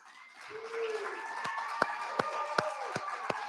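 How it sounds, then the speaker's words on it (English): A live audience applauds on arrival of a guest, a steady wash of clapping with sharp individual claps standing out and a voice crossing over it briefly. "It's nice to hear an applause live."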